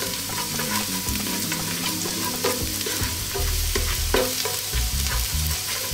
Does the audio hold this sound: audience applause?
no